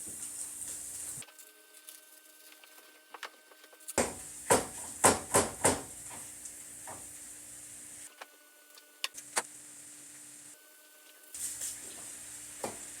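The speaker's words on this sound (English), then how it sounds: "So now I'm browning the meat, sauteing the onions, chopping up some garlic." Pork browning and onions sauteing in a pan give a soft, steady sizzle, broken by a few sharp clicks and clatters of utensils, with short silent gaps between.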